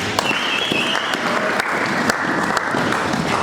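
A church congregation breaks into steady applause during a worship service, a dense roomful of clapping that holds evenly for a few seconds with no voices over it.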